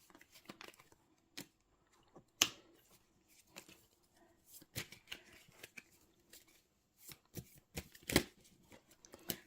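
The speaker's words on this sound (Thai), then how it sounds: "ขอเป็นตัวแทนจับไพ่ตัดไพ่ให้คนเกิดวันจันทร์ค่ะ" Gypsy fortune-telling cards are shuffled and cut by hand, giving quiet, sporadic riffles and sharp slaps in irregular bursts separated by near-silence.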